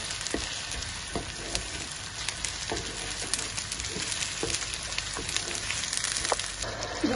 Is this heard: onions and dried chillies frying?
yes